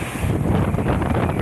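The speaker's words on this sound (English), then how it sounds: "It's pretty damn windy." Strong wind buffeting a fire lookout tower, a loud continuous roar of gusts pressing on the microphone, heard alone with no talk.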